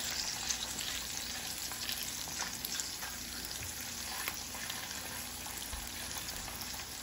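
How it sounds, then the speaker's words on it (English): Bologna slices frying in a hot skillet, a dense, steady crackling sizzle with faint pops, close and continuous throughout with no voices. "the bologna is getting its fry on"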